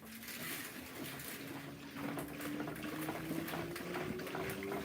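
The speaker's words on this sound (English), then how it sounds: "Sounds like there's water in there." Water sloshing and churning inside an LG WT5480CW washing machine, a soft continuous liquid wash under a faint rising motor whine, with no voices.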